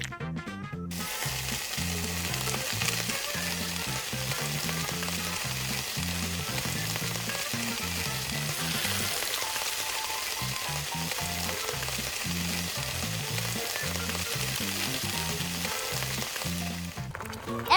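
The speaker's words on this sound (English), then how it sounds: "we fry the fish until it becomes golden and crispy" Whole whitefish fries in a tiny pan until golden and crispy, an even, sustained sizzle running beneath rhythmic background music.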